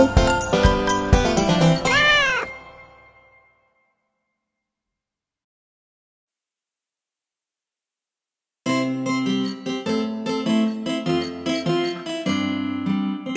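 A short burst of a cat's meow over the music of a children's nursery song, then several seconds of silence before music resumes.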